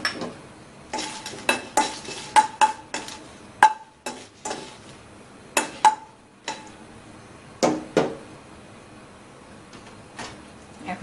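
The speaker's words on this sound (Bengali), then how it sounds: "তাওয়া গরম হয়ে গেছে, 5-6টা শুকনো মরিচ দিয়ে দিলাম।" Five or six dried red chillies tossed on a hot tawa, giving a run of sharp, irregular scrapes and clinks of a spatula against the iron pan, with a faint sizzle between them and no talking.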